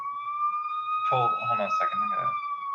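A police siren wails outside as a steady, sustained tone, audible throughout beneath someone speaking briefly over it.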